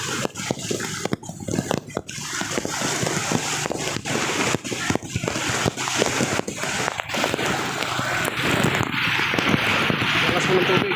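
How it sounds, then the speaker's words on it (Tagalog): Strong floodwater current rushing during Typhoon Carina in Montalban, Rizal, a continuous loud watery roar with splashes, heard under frequent nearby talking. "Ang lakas ng agos ng tubig."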